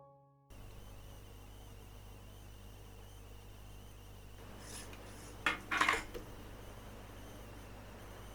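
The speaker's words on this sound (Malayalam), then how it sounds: "പാനൊന്ന് ചെറുതായിട്ടൊന്ന് ഇങ്ങനെ തട്ടി കൊടുക്കണം ഓവനിൽ വെക്കുന്നതിന് മുമ്പായിട്ട്" An 8.5-inch cake pan with mango cake batter is tapped lightly a few times before going into the oven, a brief cluster of soft metallic knocks over a quiet hum.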